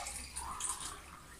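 Water is poured into glasses to tune a homemade xylophone, a short close splashing trickle that rises slightly in pitch, no talk.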